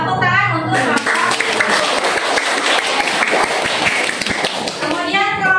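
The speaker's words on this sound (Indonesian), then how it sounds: "Tepuk tangan untuk kelompok." Classroom clapping for the most active student group: children clap in a rapid, uneven burst, rising after a brief voice and fading as the teacher speaks again.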